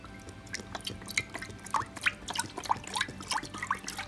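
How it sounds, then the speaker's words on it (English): Chicken broth goes into a crock pot with a run of wet plops, drips and small splashes. The sounds are close and fairly quiet, and they come in an uneven rhythm. "First, put your chicken broth in your crock pot."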